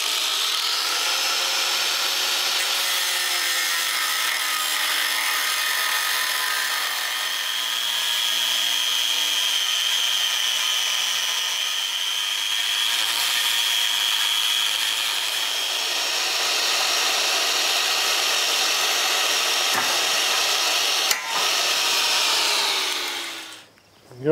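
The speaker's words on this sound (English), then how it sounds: "Sometimes the best thing to do is just cut them all off and start over." A power tool cuts steadily through rusty bolts on a Dunham double cultipacker during restoration, a loud continuous high-pitched grinding whine lasting over twenty seconds, then winding down to stop at the end.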